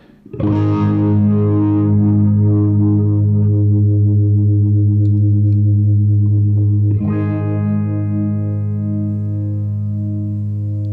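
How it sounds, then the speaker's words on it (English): A sustained organ chord swirls through a Neo Ventilator 2 rotary speaker effect, the warbling modulation gradually slowing as the rotors stop, then a fresh chord enters and holds steady. "This stop button actually stops the rotors."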